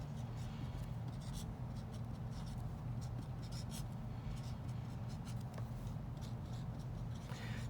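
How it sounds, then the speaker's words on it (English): A pen writes math functions by hand on paper, producing faint, quick scratchy strokes in short bursts over a low steady hum, close to the microphone and without speech. "Writing the functions down, not particularly interesting."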